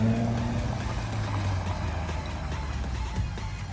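A 1972 Chevelle convertible with a small-block engine being test driven, its engine giving a steady low drone and rumble close by for a few seconds, with no talking.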